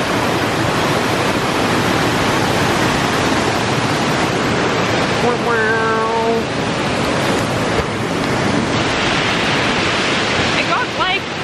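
Waterfall roar fills the air at a Tasmanian waterfall, a loud, steady broadband rush throughout, with a voice talking briefly and nearly buried beneath it.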